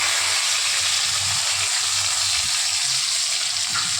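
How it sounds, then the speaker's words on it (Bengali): Grated onion fries in hot oil tempered with cumin seeds, bay leaf and dried red chillies, a continuous bright sizzling hiss with soft low stirring bumps underneath. "লাল লাল করে পেঁয়াজটা ভাজা হবে।"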